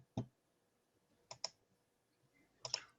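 A computer keyboard gives off sparse, quiet clicks in three small clusters: a single tap, then a pair, then a quick double, with faint room hiss between.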